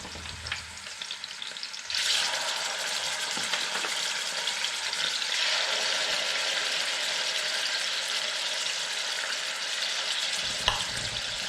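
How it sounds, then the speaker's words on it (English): Turkey pieces for a Thanksgiving casserole sizzle loudly in a hot pan as they brown, a steady close frying hiss that jumps up when the meat goes in and continues with a faint clink near the end. "We're gonna brown it for 2 minutes On each side."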